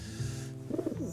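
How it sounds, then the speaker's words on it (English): A pigeon in Grim Fandango gives a short, soft, low coo, a couple of throaty warbling notes heard alone over faint background hum. "there's that pigeon there"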